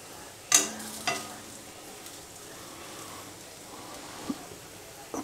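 Kothimbir vadi, coriander fritters, fry quietly in a pan with a soft, even sizzle, broken early by two sharp clicks and a faint tap later on.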